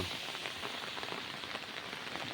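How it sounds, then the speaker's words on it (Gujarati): Steady rain hisses down without a break, a dense, even patter on surfaces all around, with no voices. "જો વરસાદ તો શરૂ જ છે."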